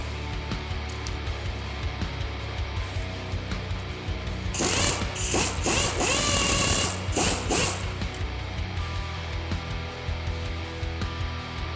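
A ratchet clicks in short repeated bursts while a bolt is worked loose during turbo removal on an R32 GTR, with a louder metallic stretch of rapid clicking and scraping midway.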